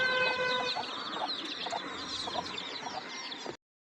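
A broody village hen clucks in short, repeated calls at close range, with a steady rural background hiss and no talking.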